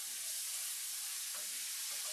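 A spoonful of garlic hits a hot pan for Cajun-style rice and chicken, giving a steady, bright sizzle and hiss up close, with a few faint stirring clicks and no talk.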